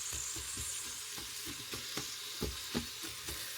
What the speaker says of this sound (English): So we're going to let the onions stir in there.